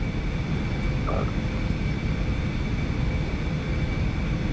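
Aerobask Eclipse 550NG jet in a flight simulator game, a steady loud engine drone with broadband rumble that holds level throughout, power being added on approach with flaps extending.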